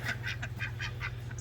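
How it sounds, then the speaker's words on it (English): Young backyard ducks give a run of short nasal quacks, about six calls in quick succession, close and clear over a steady low hum. "the ducks."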